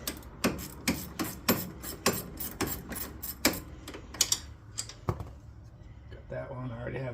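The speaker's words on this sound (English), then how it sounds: "we need to use a 15mm and take off these two bolts holding the brake caliper on" A 15mm wrench ratcheting on brake caliper bolts of a 2017 Polaris, giving a quick, even series of sharp metallic clicks that slows near the end, close up, with someone speaking over it.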